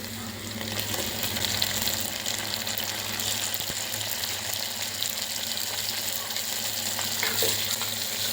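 Vegetables and tomato for a veg kurma fry in a pan, a steady close sizzle with occasional stirring scrapes and no talk.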